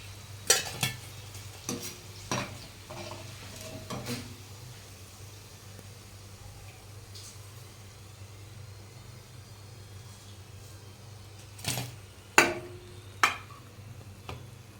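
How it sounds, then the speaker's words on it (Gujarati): Stuffed papad rolls fry quietly in a pan with a low, steady sizzle, punctuated by a handful of sharp clicks and taps of a utensil against the pan near the start and end. "બીજા બચેલા પણ આ રીતના ફ્રાય કરી દઈશું"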